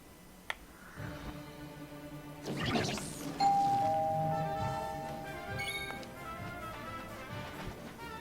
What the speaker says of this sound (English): Doorbell out of nowhere.